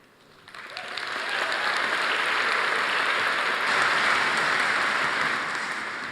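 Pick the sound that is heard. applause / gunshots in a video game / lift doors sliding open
applause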